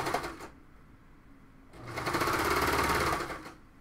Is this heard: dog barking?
no